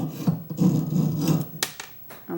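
Jeweler's saw blade cutting slowly through sheet metal in short, rasping strokes, close and clear, ending with a few sharper ticks as the cut closes.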